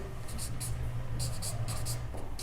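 A pen scratches on paper in short bursts of quick strokes, with brief pauses between them, close and clear over a low steady background.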